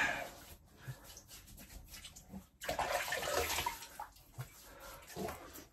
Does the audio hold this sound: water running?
yes